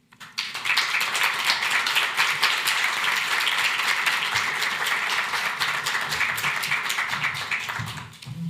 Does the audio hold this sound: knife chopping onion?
no